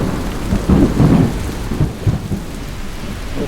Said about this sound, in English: The thunder is a little closer than I like it